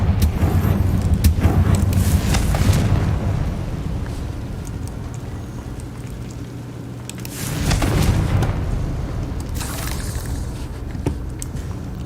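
Confringo blasting spell from Hogwarts Legacy setting off repeated booming explosion bursts over a busy, constant game soundscape, with a louder blast near the start and another partway through.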